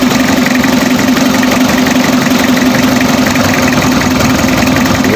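Mitsubishi L300 with a 4D56 diesel engine idling while smoking and short on power, a loud, steady clattering hum with even knocking pulses heard up close, uninterrupted by voices.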